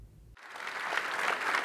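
An awards-ceremony crowd breaks into applause after a moment of near silence, the clapping swelling and holding steady, heard from a short distance.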